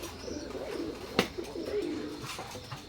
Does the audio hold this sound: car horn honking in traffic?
no